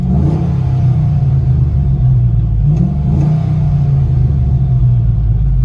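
Inside the cabin of a 2000 Chevy Tahoe with a 6.0L V8, shorty headers and a Magnaflow exhaust, a deep, loud, steady rumble rises and falls slightly as the engine revs, with no talking.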